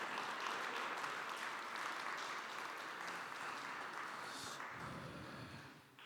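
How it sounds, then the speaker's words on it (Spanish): A church congregation applauds during a service, with continuous, even clapping from many people, moderately distant and slowly fading toward the end. "Le damos un aplauso a Dios."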